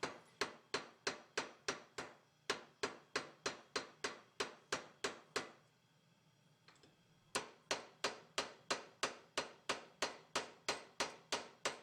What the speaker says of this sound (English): you can finish hammer peening after removing the clamp